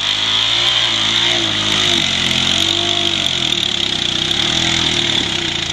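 A Honda Pioneer 500 side-by-side running hard under load, a loud steady engine drone with wavering pitch that rises and falls slightly throughout, no speech.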